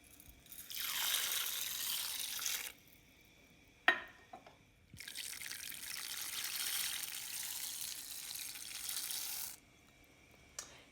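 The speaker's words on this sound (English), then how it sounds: "Now I'm going to add 2 cups of lentils to this." Dry lentils poured into a Le Creuset pot of salted water, heard as two long, rushing pours separated by a short clatter, with a quieter final trickle near the end.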